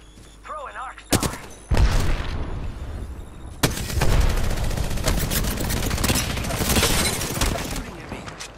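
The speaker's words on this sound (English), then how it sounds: "Shooting at me" Rapid bursts of gunfire in Apex Legends, loud close automatic shots in dense volleys with sharp impacts, continuing almost without pause for several seconds amid game effects.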